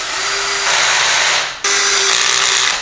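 A power driver drives screws while an electric bike is assembled, producing two loud whirring bursts with a short gap between them.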